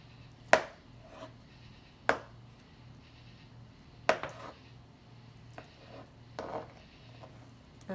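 A knife slices through a beet on a cutting board for a Russian salad, giving three sharp, close chops spread apart, then a few softer cuts, with no talking.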